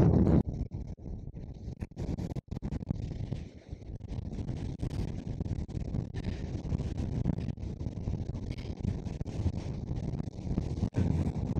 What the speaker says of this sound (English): this is way too windy